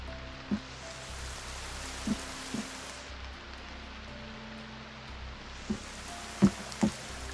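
Rain falls steadily as a soft continuous hiss in the survival game The Forest, heard from under shelter, with a few quiet knocks scattered through it.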